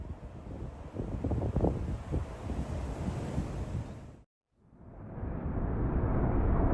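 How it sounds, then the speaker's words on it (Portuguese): Strong wind sweeps across an airport as a storm closes in. A continuous roaring rush of gusts cuts out for a moment, then builds back to a loud, steady blow. "O vento fraco foi ficando cada vez mais forte até se transformar em uma tempestade."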